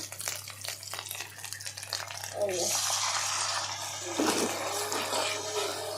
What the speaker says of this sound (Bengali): আমি একটু এখন পানি দিয়ে দিই